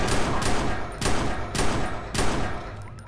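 Rapid bursts of gunfire from the Watch Dogs video game repeat in a steady rhythm about every half second, each volley loud and sharp over constant background noise.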